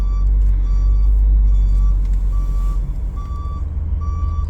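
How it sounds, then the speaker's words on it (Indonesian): A very large truck reversing quickly near a toll gate, its reversing alarm beeping at a steady regular pace over a loud, deep engine rumble close by. "Ini kenapa lagi nih truk gede banget mundur cepet bener."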